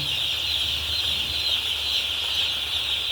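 A dense, continuous chorus of many chickens fills the space, a loud, unbroken wash of clucking and peeping with no pauses.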